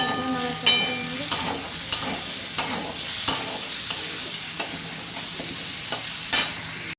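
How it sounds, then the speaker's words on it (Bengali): Tomatoes, green chillies and onion frying in a pan, with a steady sizzle under regular spatula scrapes and taps about every half second, close and fairly loud, no talk. "এটা মোটামুটি ভাজা ভাজা হয়ে গেছে টমেটো কাঁচা লঙ্কা পেঁয়াজ"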